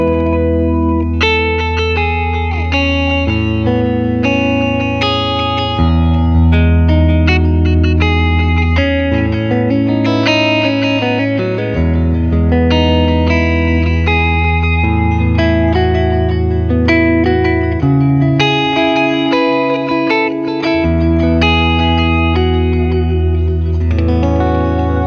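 A vintage Tweed combo guitar amp plays a full, sustained run of chords and melody through effects with chorus, echo, reverb and some distortion. The sound is loud and steady throughout, with no talk.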